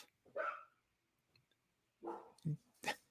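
A female guard dog gives a few short barks and yips indoors, fairly close, in separate bursts with quiet gaps between them.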